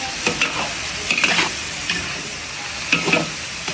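Mung beans sauté in a hot pan with a steady close sizzle, broken by repeated scraping and stirring strokes of a utensil every second or so.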